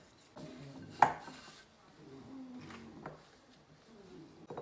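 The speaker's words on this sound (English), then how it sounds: "Mix it up until you get a shaggy dough." Spoon scraping and knocking in a bowl while flour and salt are mixed into a shaggy sourdough, soft intermittent clinks and rubbing, close and quiet.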